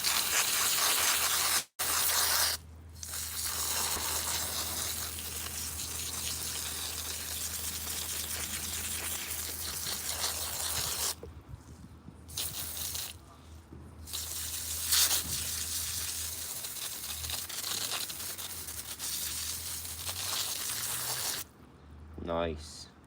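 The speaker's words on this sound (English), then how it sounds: "So I might just give it another quick" A hose sprays an apple tree to strip off mealybugs, giving a steady close hiss of water that pauses briefly a few times, with a person talking now and then.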